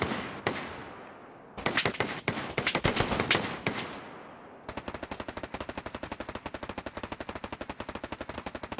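Loud gunfire in a video game battle with a tank nearby: a few heavy shots and dense bursts, then a long steady stream of rapid automatic fire, close and without talk over it.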